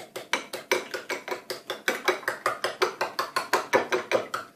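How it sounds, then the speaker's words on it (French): Eggs for crêpe batter beaten quickly with a whisk in a bowl, a steady rapid series of close clicking, tapping strokes, about four per second, with no voices. "pour mélanger les œufs, c'est comme des omelettes, il faut mélanger vite"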